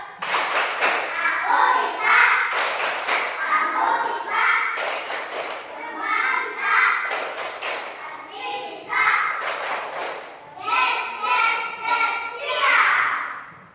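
Children in a classroom doing a clapping icebreaker game, bursts of group clapping in rhythmic patterns alternating with children's chanting voices, close and lively throughout.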